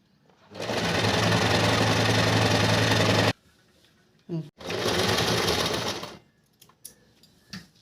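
A sewing machine runs a straight seam on buckram for salwar legs in two loud, steady bursts of stitching, the first about three seconds and the second about two, with a short clatter between and a few light taps after.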